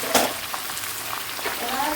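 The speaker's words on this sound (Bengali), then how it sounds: "দেখো নতুন একটা তরকারি তখন থেকে আমি কষিয়ে চলেছি" A new curry being sautéed in a pan, heard as a brief, close hiss of frying with a few scraping stir sounds.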